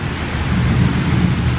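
Rain pouring down during a sudden afternoon downpour, with a deep rumble of thunder underneath, a dense, steady and fairly loud wash of sound with no talking.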